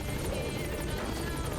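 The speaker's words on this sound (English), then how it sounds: "He drives his own helicopter." Helicopter rotor chopping steadily from the Metal Gear Solid 5: The Phantom Pain video game, a loud continuous thrum with a faint fluttering blade rhythm throughout.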